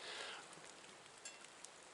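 Light rain patters steadily on the surrounding ground and leaves in a quiet outdoor bushcraft setting, a soft continuous hiss with a few faint drops standing out.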